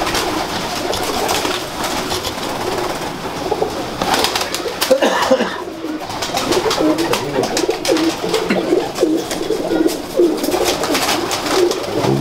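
A flock of pigeons from a long-kept breed coos steadily for the whole stretch, with overlapping low burbling calls and occasional wing rustles close by.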